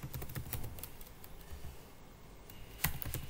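Rapid keyboard typing while code is written for an Angular unit test on dependency injection: dense, irregular clicks of keys, close and steady, with a few louder key strikes and no talk.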